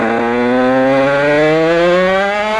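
A motorbike engine revs at low RPM, a loud, steady buzzing drone whose pitch climbs slowly and evenly over a few seconds, close to the listener with no voices.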